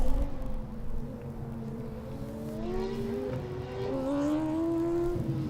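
Formula Student race car on an autocross lap, its engine note climbing and falling through gears as it accelerates and brakes, moderately distant, a brief tire squeal possible, no talk.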